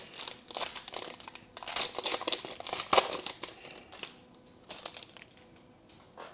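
Donruss football trading card pack wrappers from a 2025 gravity feed box being torn open, a dense run of loud foil crinkling and ripping that thins out into lighter rustles.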